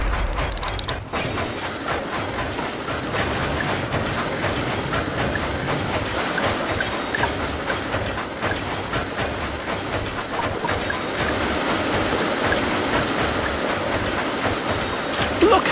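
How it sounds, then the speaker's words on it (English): A Thomas & Friends Minis toy train set runs along its track in a water-park tunnel layout, making a continuous rattling clatter of wheels and rails that stays loud and steady throughout. "Look how wonderful your train set is."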